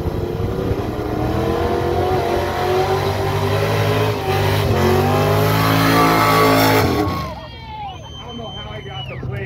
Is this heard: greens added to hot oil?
no